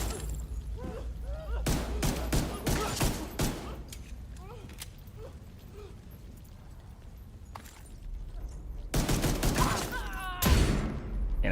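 Pistol fire in the shooter game The Division 2, bursts of sharp shots clustered in several volleys amid game ambience, with someone talking between them.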